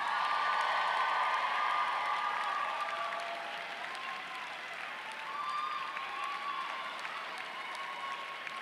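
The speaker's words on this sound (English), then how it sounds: "applaud the faculty sitting here behind me" Graduates at a university commencement ceremony applaud the faculty inside a pavilion, a sustained dense wash of clapping from a large crowd at moderate distance that holds steady throughout.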